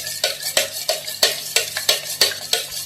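Batter is mixed briskly in a bowl in a home kitchen for sandwiches, with a steady rhythm of close scraping, tapping strokes, about three per second, and no talking.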